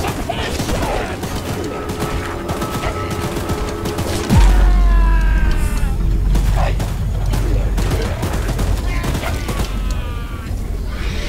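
Rapid mounted machine gun fire in the Choo-Choo Charles video game, a loud continuous rattle with a heavy boom partway through, under shouted voices.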